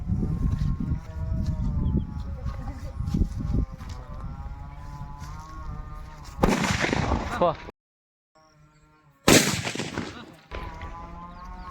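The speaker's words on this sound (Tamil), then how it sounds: "பச்சை கலர் சின்ன அணுகுண்டு வைக்க போகிறோம்." Two loud, sharp blasts of a small green atom bomb firecracker break through a steady humming background, each bang abrupt and close, with a brief quiet gap between them.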